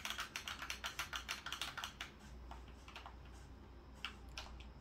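A game controller's buttons clicking in quick rapid bursts of sharp, close taps, then a few scattered clicks over a faint low hum; nobody talks.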